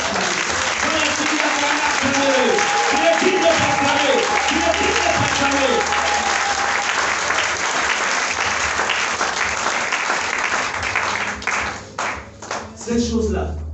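A church congregation bursts into loud, sustained applause with cheering voices mixed in, then the clapping thins out into scattered claps near the end.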